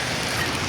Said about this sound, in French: Comme dans l'épisode 1, ça pleut fort.